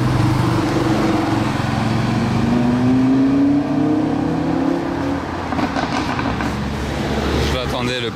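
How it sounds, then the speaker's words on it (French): A BMW M2 G87 with M Performance exhaust passes close by, its engine note rising and then falling away with a few throaty crackles near the end, loud and continuous under crowd chatter. "Attendez le petit retour d'échappement là."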